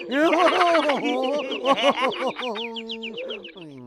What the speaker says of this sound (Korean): 이게 웬 새소리지?